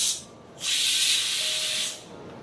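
A pressure cooker with meat inside vents steam, starting with a faint hiss that swells into a loud, steady, close hissing rush for over a second before cutting off.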